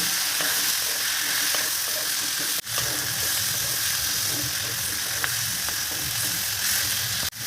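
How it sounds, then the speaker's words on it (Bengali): Close, steady sizzling and frying of spices with turmeric and slit green chilies, with occasional scraping and stirring clicks in the pan and no talk. "আরও দু মিনিট ভালো করে কষিয়ে নেব"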